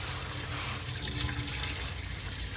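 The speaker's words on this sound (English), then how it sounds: "You can see you've got a good flow of water" Strong, steady flow of water gushing from a motorhome kitchen tap fed by an onboard water pump, a continuous close rushing hiss with no pauses.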